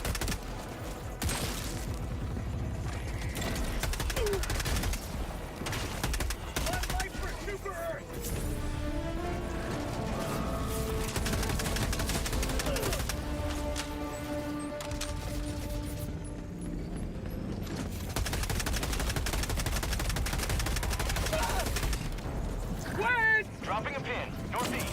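Liberator Concussive rifle fire rattles in repeated bursts during a Helldivers 2 fight against the Illuminate, mixed with mechanical clatter and other battle noise. A player talks over much of it.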